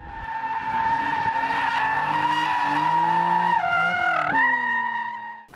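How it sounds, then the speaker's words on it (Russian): Cars skid through a speed maneuvering competition, a sustained, loud tire squeal with steady tonal pitch that wavers and dips near the end. "Зрелищные заезды автомобилей наблюдали зрители"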